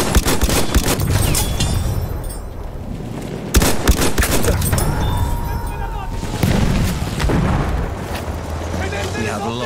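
Machine gun fire and explosions in the video game Battlefield 1 on a Sinai desert map, dense continuous gunfire with booms, loud and busy, with talk over the top.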